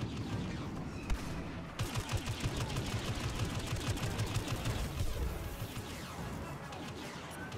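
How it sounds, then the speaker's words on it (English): Blaster gunfire hits an AT-AT walker in an online Star Wars Battlefront beta match as a dense, rapid barrage of shots. It runs steady for several seconds at moderate distance with a heavier thump near the start. "we could kill the AT-AT here. Yeah, she'd fire everything at it, Chip."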